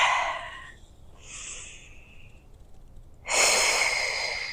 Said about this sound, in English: Always with the nice cleansing breaths